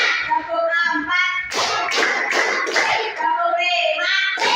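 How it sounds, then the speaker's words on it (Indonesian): A class of children clapping hands in a counted rhythm, with sharp close claps bunched in the middle between a voice chanting the counts. "Tepuk 1, tepuk 2, tepuk 3, tepuk 4, tepuk 5"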